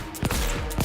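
Gunfire in Cyberpunk 2077 comes as two sharp, close shots in under a second, each a punchy crack with a short tail.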